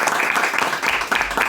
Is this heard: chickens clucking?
no